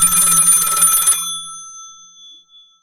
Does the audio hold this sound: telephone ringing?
yes